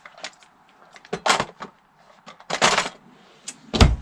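Several short wooden knocks and slides as a kitchen utensil drawer in an RV is pulled open and pushed about, with louder bursts near the start, middle and end.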